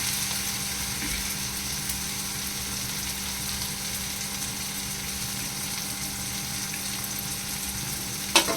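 Goat head masala fries in a pan with a steady, continuous sizzle and crackle close by, ending with a single sharp clink.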